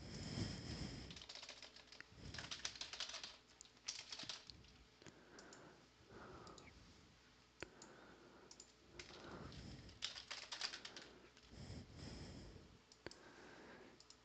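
Quick, irregular clicks of typing on a computer keyboard, faint and close, in short bursts with brief pauses between them.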